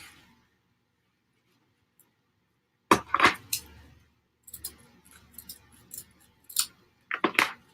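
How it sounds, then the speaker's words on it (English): Dull scissors cutting craft ribbon at close range, a few sharp snipping and crunching bursts after a quiet opening, then several shorter, uneven cuts spaced irregularly. "Those scissors are dull. That is not a nice, neat edge on that ribbon."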